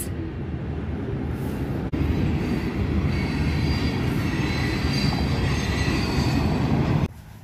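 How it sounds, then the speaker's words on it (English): A long goods train rolls past at a riverside park, a steady, loud rumble of wheels and rail cars with faint squeal, continuous for the whole stretch before the sound drops off abruptly near the end. "It's a long train."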